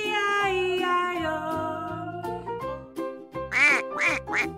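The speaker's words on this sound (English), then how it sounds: "With a quack quack here and a quack quack there" A duck quacks several times in quick succession within a sung Old MacDonald nursery rhyme for children, the calls rising clearly over a steady musical backing.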